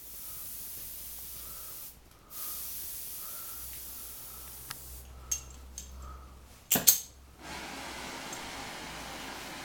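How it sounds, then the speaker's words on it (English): An acetylene torch flame hisses steadily while sooting a metal panel for a Wolseley Hornet Sports, with a few small pops and a louder sputtering burst toward the end before the hiss resumes. "we have just lit the acetylene flame"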